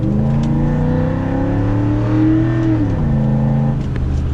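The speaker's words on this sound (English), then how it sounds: "the engine sounds throatier with the cold air intake." A Pontiac Trans Am engine with a cold air intake revs up loudly and close, its throaty note climbing in pitch and then easing off as it accelerates, with no talking.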